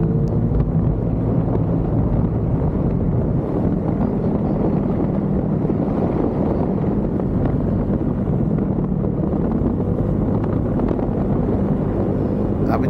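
Strong wind roaring across the microphone during a highway motorcycle ride on a Honda PCX scooter, a loud, constant, rumbling buffet with engine and road noise beneath.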